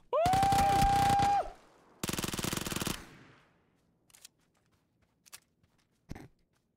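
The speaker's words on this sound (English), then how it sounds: "This has got to be a bot trying to shoot me through the wall." Game gunfire from PUBG: a long loud automatic burst, then a second shorter burst, followed by a few scattered single shots trailing off.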